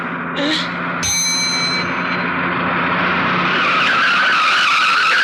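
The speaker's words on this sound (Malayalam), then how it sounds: "വണ്ടി എടുത്തു" A bus pulls away, its engine noise and road rumble swelling steadily over five seconds, with a brief bright ringing chime near the start.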